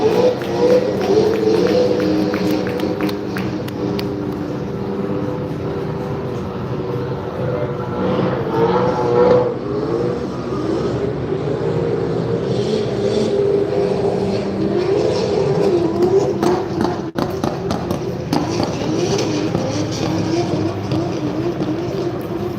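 Driftworks AE86 drift car at Silverstone Japfest, its engine droning and revving steadily over a loud trackside roar of crowd and circuit noise, with an announcer speaking at times.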